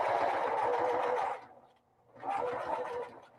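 A sewing machine stitches along the edge of a rhinestone bag, running in a steady whirring burst, pausing briefly, then running again, close and clear with no talk.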